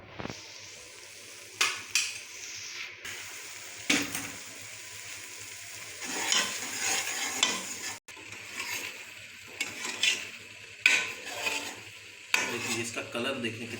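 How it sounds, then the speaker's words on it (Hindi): Chana dal and methi being roasted in ghee in a pan, with scraping stirs, clinks of a utensil against the pot and a soft sizzle running underneath across the stretch, no talk. "घी डालने के बाद इसको भून लेंगे।"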